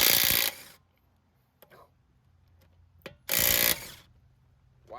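A Dewalt Atomic half-inch hog ring impact wrench running in reverse on car lug nuts gives two short, loud hammering bursts separated by quiet handling clicks and faint rustling.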